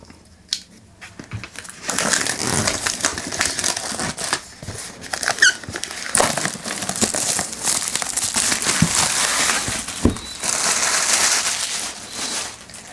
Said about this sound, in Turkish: Önce jelatini çıkardım ki kutunun etrafına şöyle güzelce bakabilelim.